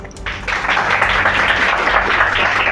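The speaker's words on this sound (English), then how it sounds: "I would like to encourage them with a huge round of applause." An audience at a bilingual declamation contest applauds loudly and steadily for the speakers, a dense wash of hand clapping that continues throughout without any talking.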